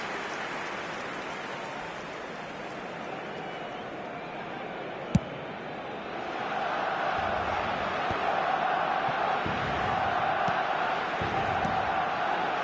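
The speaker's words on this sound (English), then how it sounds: "it certainly got the crowd going" A crowd in a football video game gives off a steady, broad roar that swells louder partway through. It sounds like distant stadium cheering with no clear voices.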